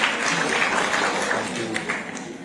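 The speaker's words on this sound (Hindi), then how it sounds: "एक बार जोरदार तालियां हो जाएं हमारे खास मेहमानों के लिए." Loud audience applause for special guests at a coaching-industry talk show, a dense steady clapping that fills the whole stretch with scattered voices faintly underneath.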